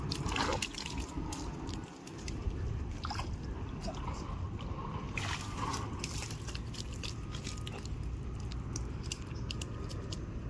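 Water pours steadily downward in an outdoor fishing spot where fish climb against the flow: a continuous broadband rush with scattered splashes and drips, fairly close and unbroken apart from a brief dip near the two-second mark.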